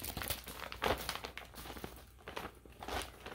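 Plastic packaging around a zippered reusable tote bag is torn open and handled, giving close, irregular crinkling and rustling bursts that rise and fall, with no talking.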